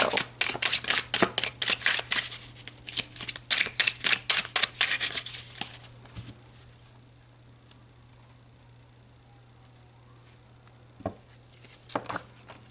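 Tarot cards being shuffled by hand, a quick run of crisp, riffling slaps close up for several seconds, then quiet with a few scattered soft taps and a low steady hum underneath.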